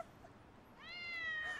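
A cat in an anime episode lets out one rising, drawn-out meow that comes in after a near-silent moment and swells to moderate loudness by the end.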